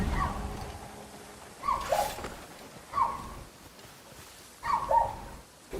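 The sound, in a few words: dogs barking in video game Crimson Desert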